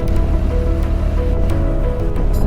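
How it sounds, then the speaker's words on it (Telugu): Vasundhara waterfall at peak flow in light rain, a loud, steady broadband roar of rushing water with no pauses. "ఎటు చూసిన వాటర్ ఫాల్సే ఉన్నాయి."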